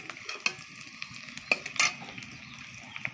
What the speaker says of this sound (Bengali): পেঁয়াজটা ভালোভাবে নেড়ে চেড়ে একটু লাল করে ভেজে নেব